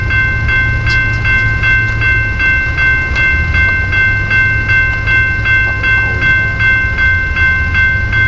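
A freight train rolls past close by with a loud low rumble and continuous wheel noise, steady rhythmic clicking of wheels on rail joints, and a faint high squeal over it, with no talk.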